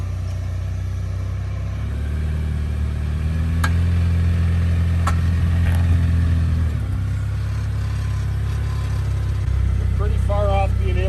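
A stock two-door Jeep Wrangler JL Rubicon Recon on 35-inch KO2 tires idles and rumbles with a steady low drone, rising slightly mid-clip and dropping back, while people talk over it.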